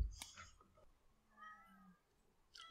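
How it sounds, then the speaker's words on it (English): A pet cat meows persistently in the background at home, wanting to be let in through a window; a short meow near the start, softer mewing later, and another brief cry at the end, fairly faint. "You have to take out all the meows that you can hear in the background"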